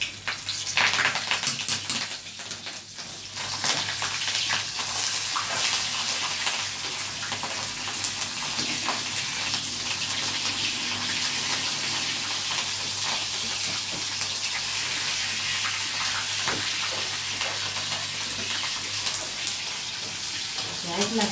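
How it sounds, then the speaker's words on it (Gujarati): Green chillies frying in hot oil for a Gujarati meal give a steady, dense sizzle that runs unbroken, loudest in the first few seconds and then holding at an even level. "જેવા મરચાં હું તળું છું"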